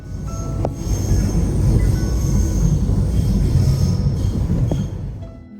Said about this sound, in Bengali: ট্রেন থেকে নেমে গেছি এখন স্টেশন দিয়ে বেরোচ্ছি